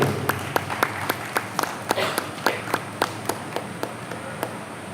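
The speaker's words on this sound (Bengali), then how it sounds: "একটু করতালিতে অভিনন্দিত করা হোক তার এই প্রচেষ্টাকে।" Audience applause at a poetry gathering of a literary academy: a steady run of individual claps, somewhat sparse and evenly paced, over a low room murmur, moderately close.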